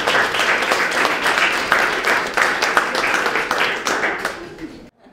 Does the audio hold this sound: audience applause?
yes